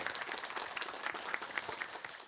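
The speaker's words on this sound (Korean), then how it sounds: "오늘 강연자 윤여준 전 장관을 큰 박수로 환영해 주십시오" An audience at a 2019 citizens' talk concert in Gwangju applauds to welcome the guest speaker onto the stage, producing a sustained, even patter of many hands that sounds fairly distant and soft.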